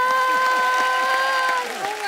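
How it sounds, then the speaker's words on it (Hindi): An entertainment-show audience applauds Mukti, steady clapping blended with loud stage music, easing slightly near the end. "जोरदार तालियां मुक्ति के लिए"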